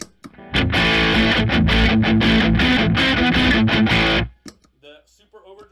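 Electric guitar played through a Boss distortion pedal, loud crunchy chords and riffs for several seconds, then it stops and someone speaks briefly.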